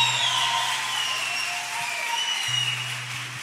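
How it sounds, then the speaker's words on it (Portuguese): Church congregation applauding during a Portuguese-language sermon on spiritual warfare and prayer, a steady broadband wash of many hands clapping that fills the space throughout, with a low sustained tone underneath. "Quem pode aplaudir o Senhor aí,"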